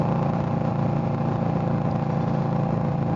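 A 2022 Indian Scout Bobber with its 1133cc engine drones steadily while being ridden, a constant, even rumble with rushing wind noise and no notable changes in revs.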